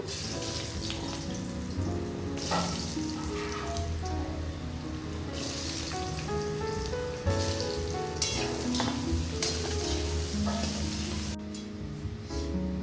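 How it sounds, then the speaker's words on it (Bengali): Potato pieces fry in hot oil, giving a steady, close sizzle that runs through the whole stretch with no talking. "আলুটা ভাজা হয়ে গেছে, এবার তুলে নেব।"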